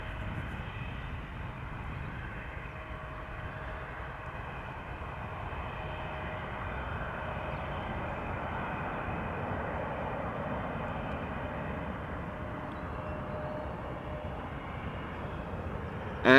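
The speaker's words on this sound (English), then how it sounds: "a KLM Boeing 737-700 taking off to Berlin" A KLM Boeing 737-700 takes off from Amsterdam Schiphol Airport bound for Berlin, its engines making a continuous, even roar that holds at a similar level for a long stretch without pausing.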